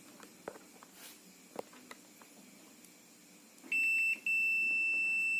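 Digital multimeter continuity test giving a sharp, steady high-pitched beep that sounds twice, the first about half a second long and the second held continuously after a short gap, close and loud against a quiet room with faint handling clicks.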